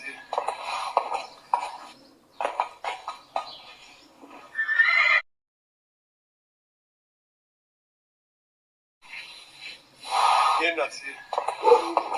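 Horses neigh and whinny at a market for slaughter horses in Skaryszew, Poland, with hoof clip-clops and crowd voices mixed in before a stretch of silence, then more loud, close neighing and bustle.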